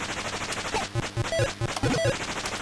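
Shooting in the MSX game Choplifter comes through as a short run of evenly spaced electronic gunfire blips, about half a dozen shots, over a low background hum.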